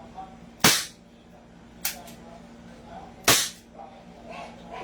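A snub nose revolver fires three sharp, loud cracks, the first and last strongest and the middle one weaker, spaced over a few seconds against a steady low hum.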